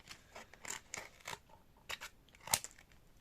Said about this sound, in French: vous allez prendre vos ciseaux et couper ici